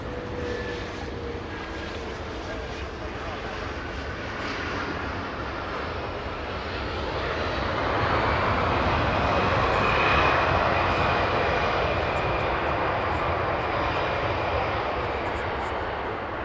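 A British Airways airliner's engines rumble at LAX, a broad steady roar that swells gradually louder toward the middle and then eases slightly, heard from a distance without talking.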